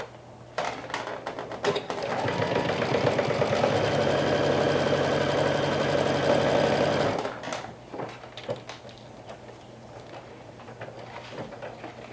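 Sewing machine stitching a bucket hat, a steady mechanical whirring run of about five seconds close by, framed by brief handling clicks and quiet moments before and after.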